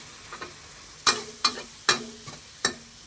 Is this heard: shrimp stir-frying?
yes